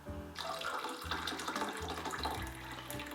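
Hot water pours from a kettle into a mug for a hot buttered rum, a steady splashing trickle close by with no talking.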